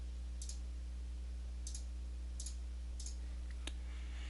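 Sharp mouse clicks from a computer on a steady hum, about five single clicks spread unevenly over a few seconds, faint and close, with no talking.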